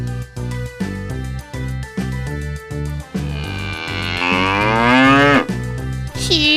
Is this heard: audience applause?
no